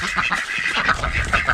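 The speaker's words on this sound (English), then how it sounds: "in this pen we have ducks, geese, and Rhode Island red chickens" Ducks and geese call over one another in a farm pen shared with Rhode Island Red chickens, a close, loud, continuous run of quacks and honks with no talking.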